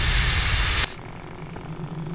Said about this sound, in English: I gotta spray him